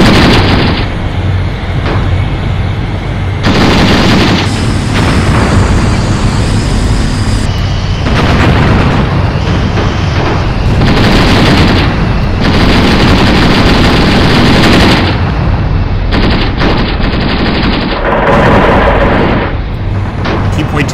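Dense gunfire and repeated heavy explosions in the Graviteam Tactics Afghanistan war game as an armored car is destroyed, loud and continuous with bursts of machine-gun fire and booming blasts, a voice occasionally heard underneath.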